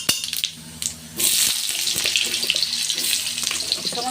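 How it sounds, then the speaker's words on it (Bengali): Potatoes fry in oil in a kadai with a loud, close, continuous crackling sizzle that surges after a quieter start of a few clattering knocks. "আলুগুলো তেলের উপর খুব ভালো করে ভেজে নেব"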